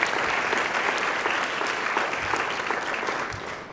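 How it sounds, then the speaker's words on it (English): A town hall audience at an astronomy conference claps steadily for a group of presenters, with dense, sustained applause that holds at an even level and thins slightly toward the end. "And a last big round of applause for all of our ERS presenters"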